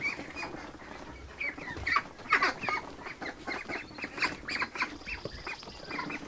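A flock of meat ducks on a duck farm quacks and honks continuously, a dense overlapping chorus of many birds close by with no talking.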